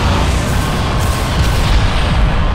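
Heavy cannon blasts from the Bulletstorm video game roar loud and close, a dense rumbling barrage of booms with no talk.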